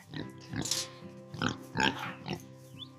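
A small pig grunts and oinks in short, close bursts, about six snorting calls spaced irregularly over a few seconds, loud and alone without talk.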